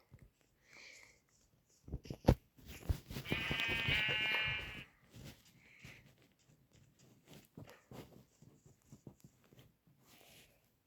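A single sheep bleat rings out, wavering and fairly loud, amid soft clicks, footsteps and quiet game sounds.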